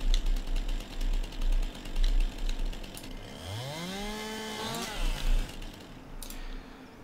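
Chainsaw trimming a felled tree in Farming Simulator 19, a loud buzzing engine pulsing as it cuts, with a rising and falling rev partway through.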